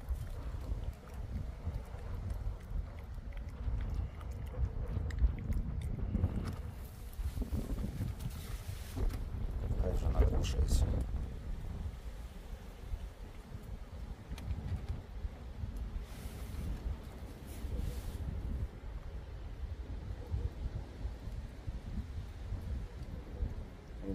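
Strong gusting wind buffets the microphone, with a low constant rumble and louder surges; no voices.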